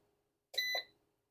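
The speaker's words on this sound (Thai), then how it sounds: "นี่เสียงปุ่มกด" A short electronic beep, two quick high tones run together, from a button press on an Anern 3500W inverter, close and clear against near silence.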